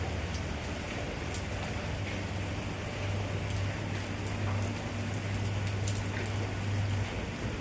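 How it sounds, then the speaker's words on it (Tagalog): Steady rain falls throughout, a dense continuous patter with a low rumbling hum underneath and occasional sharper drips. "Walang kumpas ang ulan. Ayaw talaga niyang tumigil."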